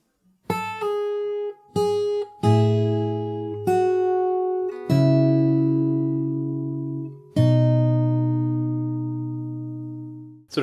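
Fingerstyle acoustic guitar plays a passage from a song: short plucked notes give way to sustained, slowly fading chords, close and clear with no voices.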